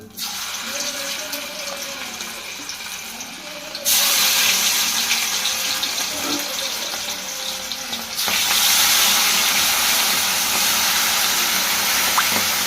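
Hot oil poured into a pan while making beef pickle, giving a steady hissing, rushing sound that jumps louder twice as more oil goes in.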